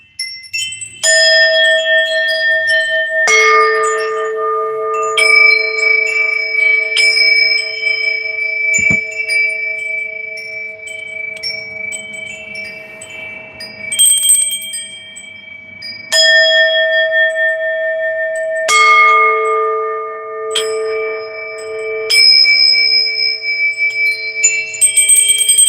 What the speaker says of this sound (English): Start with my wind chime, which gets used more as a knock chime.